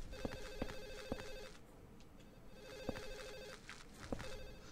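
An in-game telephone rings in Silent Hill 4: The Room, two bursts of rapid electronic trilling separated by a pause, steady and moderately loud with no talking.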